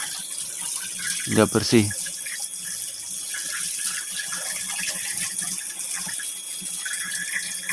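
Boiled papaya leaves are washed under a running tap, with a steady, faint splash of water through the clip and a brief burst of talk near the start.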